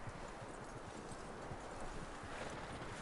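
Horse hooves clip-clop steadily and close in Red Dead Redemption 2 on PS4, a dense, continuous patter of hoofbeats with a low rumble underneath and no talk.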